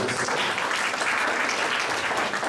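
A keynote audience at a youth leadership event claps for themselves, a dense, steady wash of applause from a crowd that holds loud and even throughout, with no talking over it.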